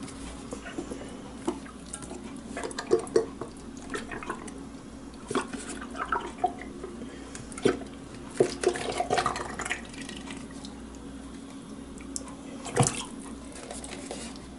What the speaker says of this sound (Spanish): ponemos nuestra ollita, vamos a vaciarle el caldo